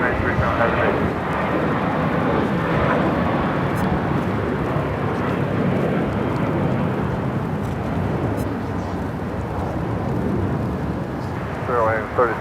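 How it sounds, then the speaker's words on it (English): Airbus A320 airliner jet engines roar steadily and loudly at Los Angeles airport, a broad continuous rush that holds for the whole stretch with little change. "It's an A320."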